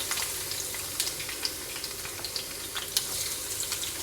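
Green chilli, ginger and garlic sizzle in hot oil with fenugreek for a lemon pickle, giving a steady close hiss and crackle with occasional pops and stirring.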